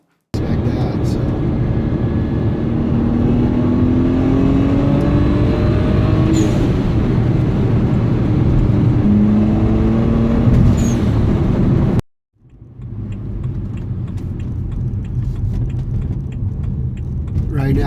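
A BMW 135i with an N54 engine running E85 pulls hard in second gear, its loud engine note rising steadily over a long stretch, then briefly cuts out before a third-gear pull begins, heard from inside the car.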